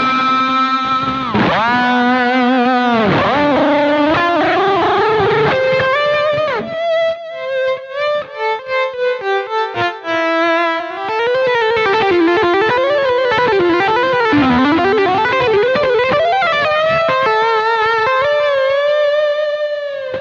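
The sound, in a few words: smooth lead guitar tone, BOSS GX-100 custom patch 2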